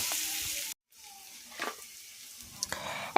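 Goat trotters dropped into a hot pan, giving a broad hissing sizzle that cuts off briefly and then returns more quietly, with a few clinks and stirring scrapes.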